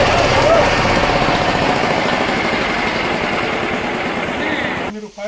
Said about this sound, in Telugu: మోటార్ని కొంచెం దూరం పెట్టుకోండి